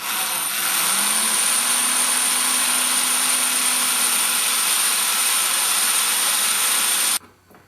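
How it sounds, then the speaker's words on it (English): A power drill whines loudly and steadily for several seconds as it bores a hole in a windshield for a Royale RP2 Formula Ford, then stops abruptly. "We're going to drill the center hole here."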